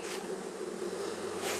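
Honey bees from a newly installed bee package buzz in a dense, continuous hum, close and steady throughout.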